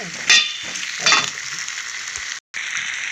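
Sweet potato curry paste is stirred in a frying pan, giving a steady sizzle broken by a few louder scraping strokes and one brief gap near the end.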